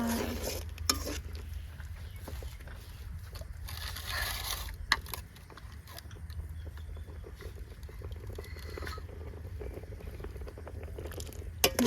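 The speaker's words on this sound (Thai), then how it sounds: "หม้อเดือดแล้ว" A pot boils in an outdoor rural Thai kitchen while beef seasoning powder is stirred in, with steady bubbling and sizzling under scraping stirs and occasional clinks.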